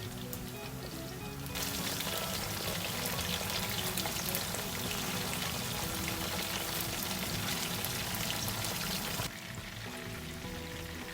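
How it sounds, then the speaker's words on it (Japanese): Karaage fried chicken deep-frying in oil in a frying pan, a steady dense crackling sizzle that swells louder for several seconds, then eases back, with no voices. "フライパンに油を入れて唐揚げを揚げていきます。"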